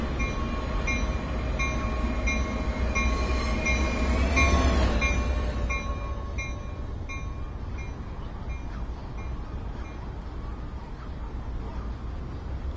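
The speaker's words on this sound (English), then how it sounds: "That's our train right there." A train runs in Train Sim World 2020 with a continuous low rumble. Sustained horn-like tones ring over it early on, then fade, leaving steady rolling noise.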